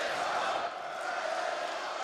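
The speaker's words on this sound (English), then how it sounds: "The crowd is loving it at the moment." Esports crowd at the ELEAGUE Major 2017 semifinal, Virtus.pro versus SK Gaming, cheering as a steady, loud, broadband roar that fills the arena without a break.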